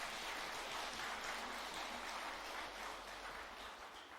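A congregation at a Buddhist temple service applauds together, a steady dense wash of clapping from many hands that carries on without a break and fades slightly toward the end.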